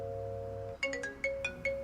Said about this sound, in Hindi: पिताजी फोन कर रहे हैं